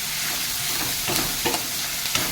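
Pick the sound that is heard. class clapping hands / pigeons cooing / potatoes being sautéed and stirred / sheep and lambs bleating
potatoes being sautéed and stirred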